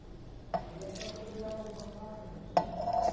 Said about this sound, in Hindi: थोड़ा दूध डालेंगे इसके अंदर